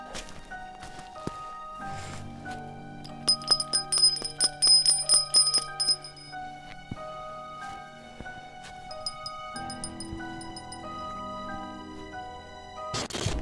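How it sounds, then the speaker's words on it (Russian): Small bells strung on a perimeter rope ring and jingle, bright tinkling strikes clustering into a busy shimmering stretch midway before settling into scattered chimes, fairly close, with faint rustling and footsteps. "звенели колокольчики"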